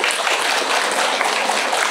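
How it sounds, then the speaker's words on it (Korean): An audience at a Buddhist dharma talk breaks into dense, continuous applause, a steady wash of many hands clapping together. "좀 일어나셔. 박수 한번."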